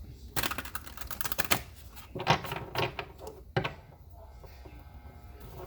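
Tarot cards being shuffled: quick bursts of flicking and riffling, close up, in a few separate rounds with soft pauses between.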